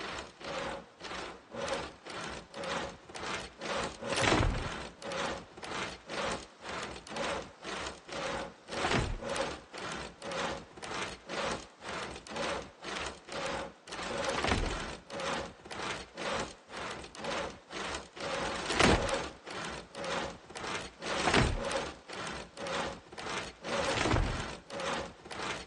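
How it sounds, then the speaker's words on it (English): Logs are sawn by hand in the video game Project Zomboid, a steady back-and-forth rasp of regular strokes repeating evenly, with a few louder pulls standing out, and no talking. "So I sit on the ground, start sawing."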